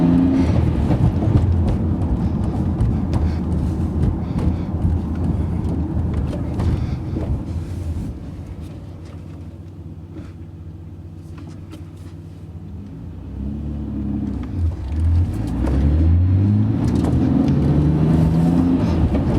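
Nissan Skyline R34 GTR V-Spec with a Nismo twin plate clutch, heard from inside while driving: a steady low engine drone and road rumble that dips quieter midway, then builds again with rising revs.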